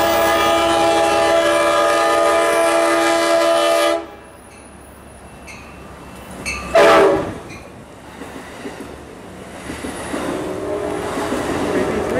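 An Amtrak train with a cab car sounds a loud sustained horn for about four seconds, then a short second blast, followed by rumbling rail noise as it passes at Old Town, with a voice briefly heard.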